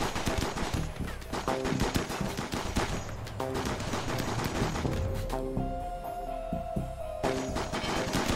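Gunfire in the video game Rimworld, rapid overlapping bursts of shots in a continuous barrage with short lulls, loud and dense, no talking over it.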